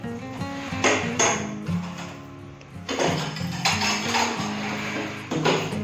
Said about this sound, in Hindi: तो ये रात के बर्तन है